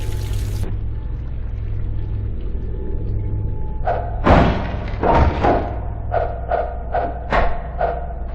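Destructible wooden boards broken apart in the video game Half-Life 2, with a series of heavy cracking thuds and splintering impacts over a steady water ambience, several hits in quick succession.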